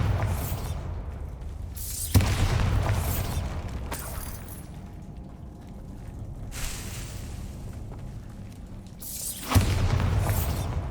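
Spell blasts in Hogwarts Legacy: sharp booming impacts near 2 s and 9.5 s, each followed by a rumbling, crackling tail, with quieter mechanical clatter and background game noise between.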